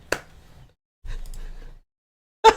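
A single sharp hand clap, close and loud, with a short crisp burst of similar percussive noise trailing after, nothing else around it.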